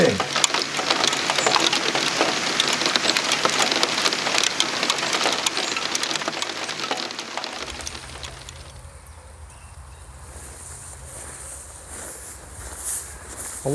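Steady outdoor rain pours loudly for several seconds, a dense hiss of drops on surfaces that then eases to a lighter, fainter patter with a low rumble underneath.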